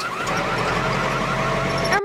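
Emergency services vehicle siren from a children's vehicle-learning game, a steady electronic wail with shifting tonal sweeps that fills about two seconds at moderate loudness before cutting off abruptly, with no talk over it.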